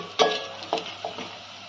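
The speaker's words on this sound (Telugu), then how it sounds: "ఎండుమిరపకాయ కరివేపాకు తొందరగా వేగిపోయింది" Dried red chillies and curry leaves frying in hot oil, a few sharp crackling bursts of sizzle as they are stirred, close by and fading into a quiet hiss.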